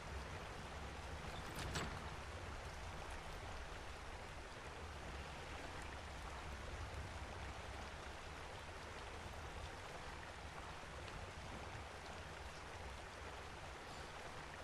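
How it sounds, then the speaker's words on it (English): Rain falls continuously in Ark Survival Ascended on the Ragnarok map, a loud, steady wash of water noise that holds throughout with no talking. "See how long this rain lasts. If it goes on for much longer, I might just turn it off."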